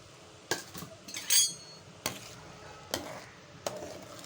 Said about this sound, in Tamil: மொத்த மாவையும் போட்டு கிளறிடுங்க.